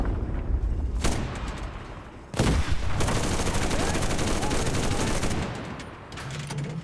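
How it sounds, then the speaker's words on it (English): Sustained automatic gunfire and explosions in the World War II shooter game Enlisted, dense continuous bursts with a sharp blast near the start and another around two and a half seconds, loud battlefield noise without talk. "I can see machine gun fire around there."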